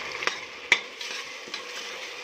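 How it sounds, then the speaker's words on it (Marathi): Rice is being stirred into a sweet coconut mixture in a pan, with a soft frying sizzle under a few scraping strokes and light clinks from a spoon against the pan. "एक वाटी छान असं घेऊन घेतलेले तांदूळ ॲड करूया छान याला मिक्स करून घेऊया"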